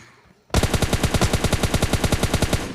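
Automatic gunfire in PUBG Mobile Lite bursts in suddenly after half a second of near-quiet, a loud, close, rapid string of evenly spaced shots that continues steadily to the end.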